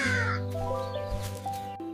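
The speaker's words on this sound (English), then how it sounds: "That crow is black." A crow caws loudly and close by in a village setting, one long harsh call followed by shorter rasping caws over about two seconds.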